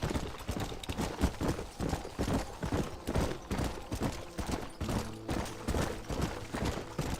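Black stallion's hooves clip-clopping steadily in a video game, a busy rhythmic trot of hoof beats, moderately loud with game ambience behind.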